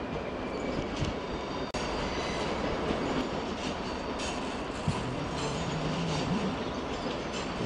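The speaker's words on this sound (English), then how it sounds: "Meanwhile, here's an ICE service." An ICE 4 high-speed train rolls past outside München Hauptbahnhof in the evening, a loud continuous rumble of wheels on rails with faint rhythmic clatter and brief squeals, heard close with no voices.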